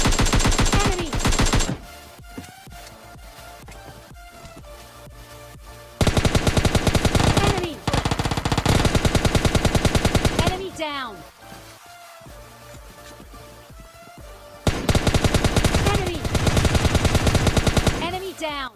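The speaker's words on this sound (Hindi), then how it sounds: "वहाँ से फायरिंग की आवाज़ आने लगी" Bursts of automatic gunfire from a house near the bridge in PUBG Mobile Lite, loud rapid volleys in three long stretches separated by quieter gaps with scattered single shots.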